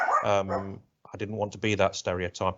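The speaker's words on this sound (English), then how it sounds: "I'm sorry about the dog going off" A dog barks and yips repeatedly in the background of a borough council committee meeting on the environment and climate change while a person keeps speaking over it.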